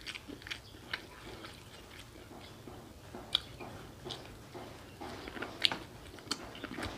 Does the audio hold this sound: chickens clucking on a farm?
no